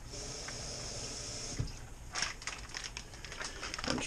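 Water running and splashing into a plastic bag of sauerkraut as it is rinsed at a kitchen sink, a steady faint hiss with small crinkles and drips, no voices.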